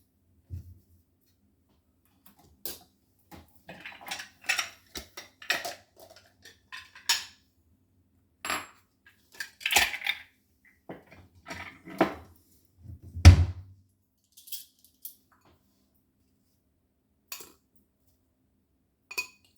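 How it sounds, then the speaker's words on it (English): Fried alkaline dumplings are set into a bowl, bringing scattered clinks and taps of dishes and cutlery with pauses between them, plus one heavier thunk near the middle, all close and without talk. "Let me put hers in a bowl."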